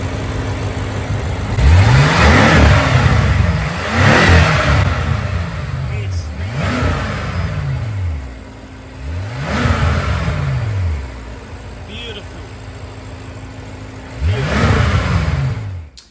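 A BMW F10 M5 engine, freshly rebuilt, revs hard in repeated bursts, about five sharp climbs and falls between idle stretches, loud and close with a steady hum beneath.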